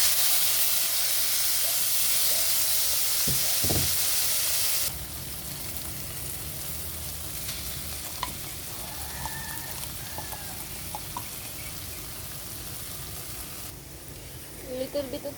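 Shrimp paste (bagoong alamang) sautéing in a pan, a bright steady sizzle that hisses loudly at first, then settles into softer crackling with occasional clinks of stirring.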